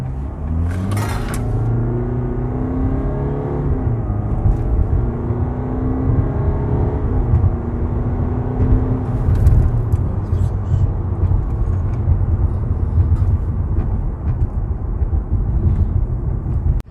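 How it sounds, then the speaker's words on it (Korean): A 2016 Jaguar XE 20D diesel sedan accelerating hard in dynamic mode, its engine rising through gears with a steady in-cabin drone and road rumble, heard from inside the car. "그러면 가속 한번 해볼게요."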